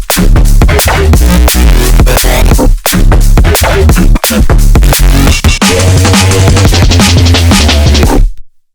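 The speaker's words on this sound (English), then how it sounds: "it's based on very distorted sine waves with a tiny bit of frequency modulation." Heavily distorted neurobass synthesized in Serum from distorted sine waves with slight frequency modulation, very loud and gritty, pulsing in rhythmic bursts with short gaps, alone, cutting off abruptly at the end.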